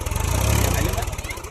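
A Massey Ferguson 8055 tractor engine runs at night during a demo test, giving a steady, close, low rumble with a pulsing throb that lasts the whole short stretch.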